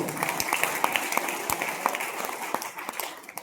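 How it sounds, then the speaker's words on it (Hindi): A crowd of listeners at an RCM business motivational talk claps together, a dense, steady burst of applause heard fairly close, with no talk over it. "इन सभी गुरुओं के लिए एक बार जोरदार ताली"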